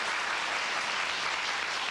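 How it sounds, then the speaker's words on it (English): Studio audience applause on a 1972 television game show, a steady, even wash of clapping heard from a distance, with no talking over it. "Rich, you're stepping on my applause, Rich."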